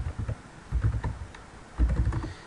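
A command is typed on a computer keyboard in short clusters of soft, close key clacks, separated by brief pauses.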